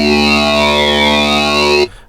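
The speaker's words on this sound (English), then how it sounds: "the talking modulator morphs from O to A to U to A" A bright, buzzy Korg synthesizer tone holds steady with a talking-modulator vowel quality slowly morphing from O to A to U to A, then cuts off abruptly near the end.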